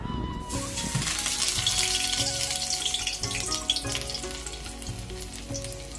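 Pumpkin leaf fritters, folded small and dropped into hot oil in a village kitchen, fry with a steady, dense sizzle that swells after a quiet start and holds on, with faint occasional clinks.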